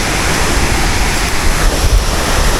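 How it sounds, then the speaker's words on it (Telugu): Polluru waterfalls pour as a dense, steady roar of rushing water that covers the whole clip; loud and constant with no voices. "అండ్ ఇదే పొల్లూరు వాటర్ ఫాల్స్."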